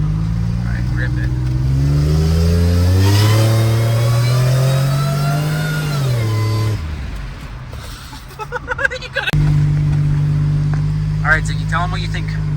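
A Chevy V6 fitted with a huge cam revs hard on a dyno, its loud engine note climbing steadily, then dropping off before surging back to a sustained high-rpm roar close by, with talk briefly heard in between.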